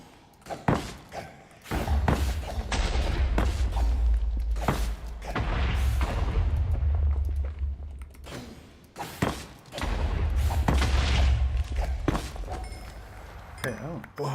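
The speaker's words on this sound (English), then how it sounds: "Wait for the explosion." Explosions blast through a Minecraft mining session for ancient debris, several heavy booming thuds in bursts with sustained low rumbles between them, while a player talks over the action.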